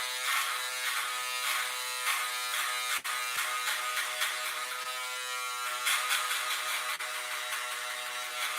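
Electric shaver buzzing steadily and loudly for a self-done fade haircut, a continuous close motor drone with slight pitch shifts as it moves through the hair.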